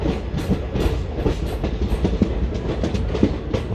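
The Delhi to Jodhpur superfast express rolls along the main line, a steady loud rumble with rhythmic wheel clatter throughout, heard close from on board.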